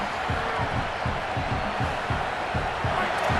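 A dense stadium crowd roars continuously in the EA Sports College Football video game, a loud wash of noise with a rhythmic thumping pulse beneath it.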